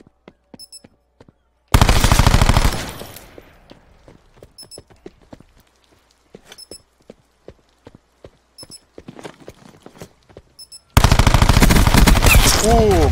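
Cordite PDW submachine gun firing in Call of Duty Black Ops 4 multiplayer, two long loud automatic bursts separated by quiet footsteps and scattered game effects.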